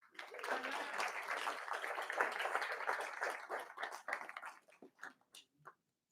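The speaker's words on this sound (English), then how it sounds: "Please give a round of applause to" A summit audience applauds a speaker called to the stage, a dense burst of clapping for about four seconds that thins into a few scattered claps and fades out.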